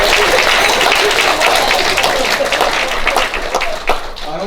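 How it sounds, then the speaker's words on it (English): A wedding crowd gives the staff a loud, steady round of applause, dense clapping filling the room at close range with some voices mixed in. "Can we give a round of applause to the staff, please?"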